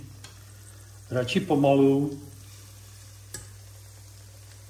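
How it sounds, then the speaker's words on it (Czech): Chicken pieces in hot oil in a pan, heard as a short burst of sizzling and stirring that rises and fades, with a voice speaking briefly over a steady background hum. "No a teď už se to prostě normálně usmaží."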